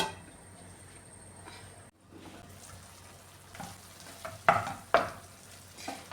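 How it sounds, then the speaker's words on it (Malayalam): Kerala-style prawn roast being stirred in a pan as the thick gravy reduces, with a low steady sizzle and a few sharp scraping clacks of the spoon against the pan, close and clear. "ഇതൊന്ന് തുറന്നു നോക്കി ഒന്ന് ഇളക്കി കൊടുക്കാമേ."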